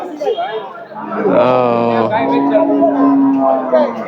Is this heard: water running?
no